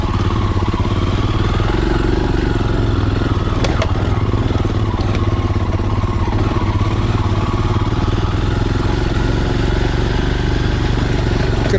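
A Royal Enfield Himalayan motorcycle rides off-road through mud, its engine thumping steadily and loud up close with some clatter and splashing throughout.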